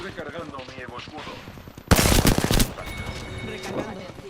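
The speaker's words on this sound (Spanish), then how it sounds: "Recibiendo disparos." Machine gun fire in a video game crackles as a dense burst of rapid shots lasting under a second, loud over game music and effects, with a voice talking around it.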